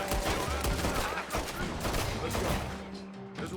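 Dense, overlapping gunfire in Red Dead Redemption 2 crackles in a near-continuous barrage of rapid shots that thins out toward the end, with a voice faintly mixed in.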